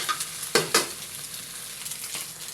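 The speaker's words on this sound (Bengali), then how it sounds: "এটা এখন আমি সুন্দর করে ভেজে নেব।" Eggs and chili frying in a pan for egg noodles: a steady sizzle runs throughout, with a few sharp scraping stirs of a utensil against the pan, close and without talk.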